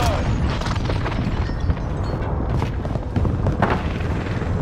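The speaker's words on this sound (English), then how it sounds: "Enemy precision airstrike." Dense, continuous rumbling booms from a precision airstrike in Call of Duty: Warzone on Fortune's Keep, heavy low explosions rolling one into another with a few sharper blasts around the middle, loud and sustained with a hint of voice underneath.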